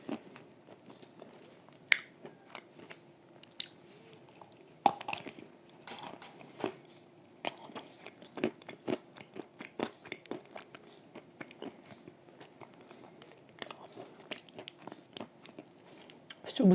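Crisp, crunchy bites and chewing of clay, close to the mic, as a steady run of small cracks and crunches over a quiet background with no talk.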